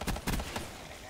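Rapid bursts of gunfire in the Call of Duty video game during a 1v1v1 match, a few loud close shots clustered early and again around the middle, then fading off.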